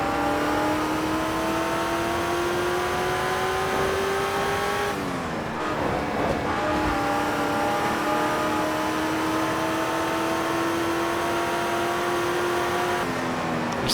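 Racing-game car engine from Test Drive Unlimited, a steady loud drone that climbs in pitch as it accelerates, dips briefly mid-clip as if shifting or braking with some tire noise, then resumes a smooth rising whine, no talking.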